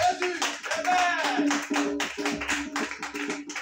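Congregation clapping to acclaim Jesus during a French-language church service, a dense steady patter of many hands that goes on throughout, mixed with cheering voices and a loud, close shout.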